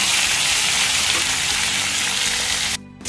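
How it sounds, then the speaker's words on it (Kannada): Tomato and onion masala frying in a pan for chicken pepper gravy, a steady dense sizzle running loud and continuous before cutting out abruptly near the end. "ಚೆನ್ನಾಗಿ ಫ್ರೈ ಮಾಡ್ಕೊಳ್ಳೋಣ"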